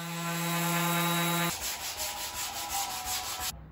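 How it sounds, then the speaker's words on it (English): Sanding along the edge of a timber table top made from rough old timber, heard as a close, steady abrasive rubbing hiss that follows a brief tonal machine hum, with no voices. "I then sanded the edge to finish it off"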